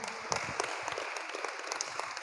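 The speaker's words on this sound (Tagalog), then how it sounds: "Palakpak." A church congregation claps in a steady patter, close and bright, continuous throughout with no speech over it.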